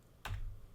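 A single computer keyboard delete key pressed once, a quiet close click with a soft thud following, in a quiet room.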